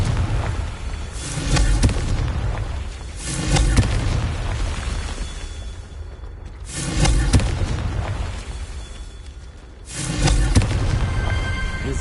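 Confringo fire spell explosions in Hogwarts Legacy, a series of four booming fiery bursts at regular intervals over a continuous rumbling game backdrop.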